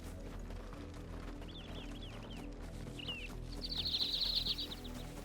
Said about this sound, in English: Those birds tweeting? That was an awesome fucking sound effect.